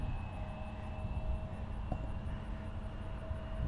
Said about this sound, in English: Looks like we'll have another departure on 36 right momentarily. Another regional aircraft.